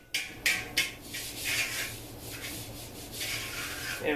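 A metal file rasps over a motorcycle part during metal finishing, a few sharp strokes at first followed by steady close rubbing strokes, fairly quiet and alone.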